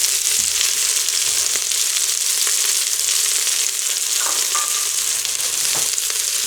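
Chopped onions sizzle loudly in a hot Instant Pot on sauté, with a wooden spoon scraping and stirring through them in occasional soft knocks under the constant fry.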